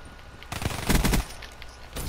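Pistols fire rapidly in the Call of Duty Black Ops 3 multiplayer game, a single quick volley of shots lasting under a second, fairly quiet and surrounded by faint background noise.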